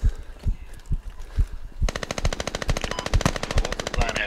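Gunfire in the military shooter game Squad: scattered single shots give way to a loud, rapid burst of automatic fire that continues to the end.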